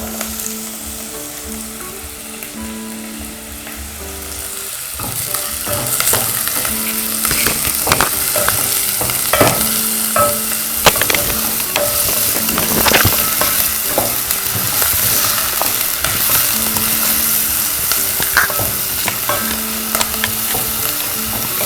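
Bell peppers stir-frying in a pan for fried rice, loud close sizzling with frequent scraping and tossing stir strokes, over faint background music, no voices.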